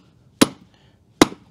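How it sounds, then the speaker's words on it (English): A stump vise is knocked into a chunk of wood with a piece of wood as the striker: two sharp, loud, close wooden thuds about 0.8 seconds apart, with quiet between them. "get the stump vise and I'm gonna knock it into this chunk of wood here"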